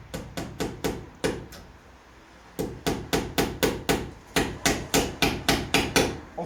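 Hammer strikes drive a nail to fix a prop tripod, landing as sharp, close, loud blows in quick steady runs of about five or six, separated by short pauses, roughly two dozen hits in all.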